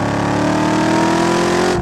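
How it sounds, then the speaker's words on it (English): A 2019 Dodge Challenger Hellcat Redeye Widebody runs with a loud, continuous exhaust rumble. A steady high supercharger whine rides on top, close and constant with no break. "it's the supercharger whine that sets it apart from everything else"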